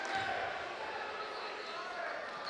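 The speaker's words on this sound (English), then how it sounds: "listen to this crowd right now" Crowd of fans in a high school boys basketball gym, Goffstown at Nashua North in New Hampshire, a steady broadband murmur of many voices filling the whole stretch with no breaks.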